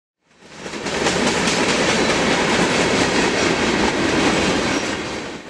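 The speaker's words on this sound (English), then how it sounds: "This train was also carrying this flat car stacked with train wheels, followed by a colorful line of boxcars." A freight train with hopper cars rolls past close by, swelling in quickly then holding a loud, continuous roar of wheels clattering over rail joints.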